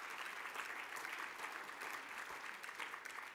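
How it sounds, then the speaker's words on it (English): A sports awards audience claps in tribute to a late sprinter, a continuous, even wash of applause heard at a moderate distance with no voices over it. "You can applaud the greatness of Tori Bowie"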